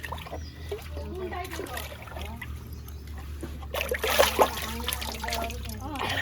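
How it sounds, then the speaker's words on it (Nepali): Water splashes and trickles close by as someone swims in a village, with soft dribbles and louder splashes in the second half, heard beneath a person talking. "म चाहिँ आज स्विमिङ खेलेको छु"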